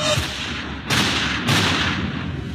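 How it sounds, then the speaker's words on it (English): Two or three sharp, booming gunshots crack out about half a second apart, each leaving a rough, echoing tail. "Suddenly, around 8:30 p.m., shots rang out."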